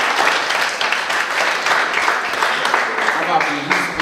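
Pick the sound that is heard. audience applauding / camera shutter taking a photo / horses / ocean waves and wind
audience applauding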